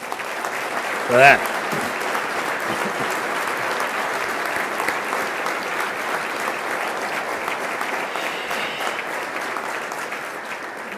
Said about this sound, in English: I think we all owe him a huge round of applause